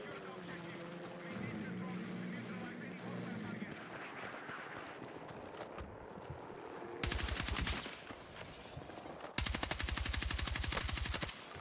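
Gunfire in the video game Battlefield 6: distant shots and muffled battle noise give way to two loud, rapid bursts of automatic fire near the end, with a low hum between.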